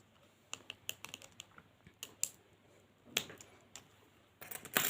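A tablet being pried open during disassembly, a series of sharp, brief plastic clicks and snaps, close and fairly quiet, irregularly spaced with a louder cluster at the end.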